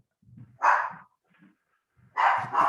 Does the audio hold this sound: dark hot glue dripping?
no